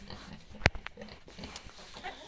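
Close, short grunting animal noises with one sharp squeal-like burst, against a low farmyard background.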